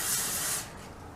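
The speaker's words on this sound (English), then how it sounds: "And I'm gonna spray with my cooking spray." Cooking spray hisses from a can onto salmon fillets on a baking sheet, one close burst for about half a second before it tapers into quiet.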